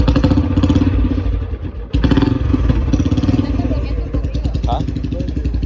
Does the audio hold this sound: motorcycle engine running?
yes